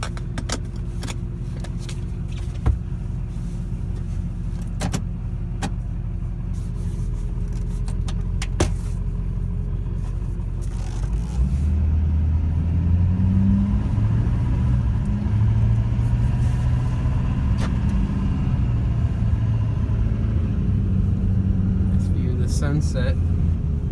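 A lowered 2001 Duramax one-ton diesel truck pulls away and drives, a low steady engine rumble that deepens and grows louder as it accelerates, with occasional clicks and rattles inside the cab.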